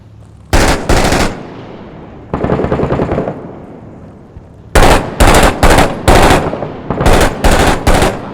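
Machine gun fire in the video game Six Days in Fallujah, loud close bursts cracking in short repeated volleys separated by brief gaps and a quieter stretch of distant firing.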